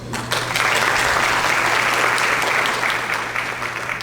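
Steady, dense applause from the audience at a forum on adolescent health, loud and sustained for four seconds after a sharp start, with no voices on top.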